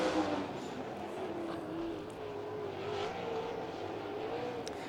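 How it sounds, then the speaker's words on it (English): 360 sprint cars circle the track in a hot lap session at the Northern Summer Nationals, their engines blending into a steady, continuous roar that rises and falls slightly with distance, with no talk over it. "Final hot lap session for the 360 sprint cars drawing to a close"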